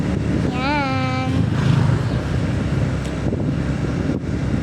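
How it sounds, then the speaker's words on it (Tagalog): Steady wind rush while riding pillion on a motorcycle along a road near a market, a constant broadband roar with engine rumble beneath and a brief tonal whine early on. "Sarap pala dito ng hangin pag angkas sa motor."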